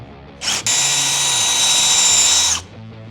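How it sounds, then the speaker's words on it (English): A power drill spins up after a brief blip and grinds steadily for about two seconds, drilling out a bolt hole to 5/16 inch in a billet aluminum pedal, loud and close, then stops. "So I'm going to drill it out to 5/16 now."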